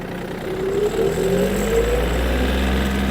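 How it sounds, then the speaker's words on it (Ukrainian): A Yanmar F-210 Japanese mini tractor drives along, its engine running steadily and loudly up close, with a rising tone as it picks up speed. "Трактор дуже швидко відгукується на педаль газу, миттєво набирає свою максимальну швидкість."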